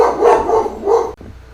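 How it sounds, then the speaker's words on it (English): Dogs barking loudly and close at a mail carrier from inside a house, two sharp bark bursts followed by a brief abrupt cutoff and quieter room noise. "the dogs are done protecting the house from the mail person"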